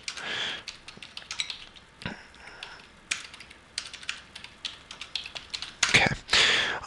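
Someone types a chat message on a computer keyboard in World of Warcraft, with quick, close, irregular key clicks, uneven bursts, and a louder clatter near the end.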